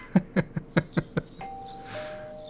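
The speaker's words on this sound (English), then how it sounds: "You hear the doorbell ringing." A doorbell chime in the video game Persona 4, with six evenly spaced bright tonal strikes in quick succession, followed by a steady sustained tone and soft hiss. No talking.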